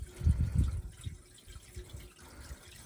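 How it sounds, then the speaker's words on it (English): Water poured into the radiator of a 1959 GMC truck, a low gurgling, splashing flow that swells loudly at first, then settles into a steadier, quieter trickle. "I am putting straight water in because there's no worry about it freezing anytime soon."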